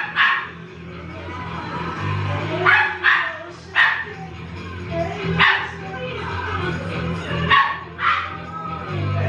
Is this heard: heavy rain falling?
no